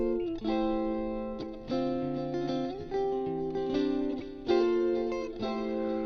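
Sustained guitar chords are processed through Ableton Live's built-in delay and reverb, ringing out in overlapping, echoing layers with a new strum roughly every second or so.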